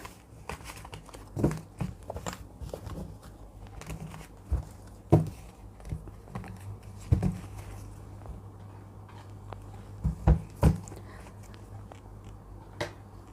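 Tarot cards being gathered up on a table, a series of soft, irregular rustles, taps and crinkling shuffles, quiet and close with no talking over them.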